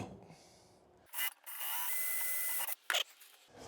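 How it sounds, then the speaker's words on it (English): A power drill whines in a sustained burst, with a couple of short revs before and after, close and fairly loud. "see if we can drill another hole on the other side"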